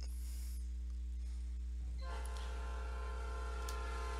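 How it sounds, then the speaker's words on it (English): In the Pokémon Reborn fan game, a departing train gives a low steady rumble, then a loud sustained horn blast joins it, all with no voices. "Train's leaving any minute."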